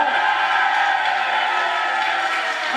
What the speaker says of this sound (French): Je voudrais qu'on l'applaudisse et qu'on l'accueille avec tous les honneurs